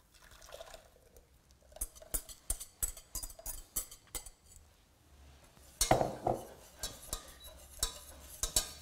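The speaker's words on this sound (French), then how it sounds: "Nous allons remettre notre mélange dans notre casserole et laisser cuire 5 minutes en remuant." An apple and gingerbread crêpe mixture with hot milk is stirred in a saucepan, giving a series of soft scraping and clinking taps of a utensil against the pan, with light liquid sloshing and no voices.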